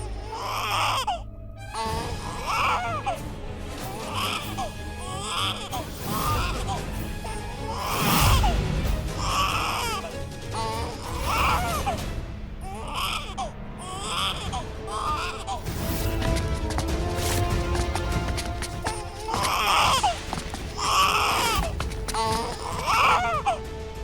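An infant cries loudly in repeated wailing bursts with short gasps between them, continuing throughout a dramatic TV serial scene.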